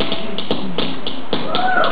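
Small plastic bug-shaped clacker toys click and tap in quick irregular bursts, close up, with a little background shuffling.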